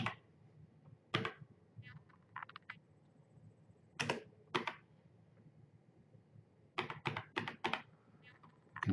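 Someone types on a computer keyboard, close up and fairly quiet, in short bursts of clicky keystrokes with pauses between them.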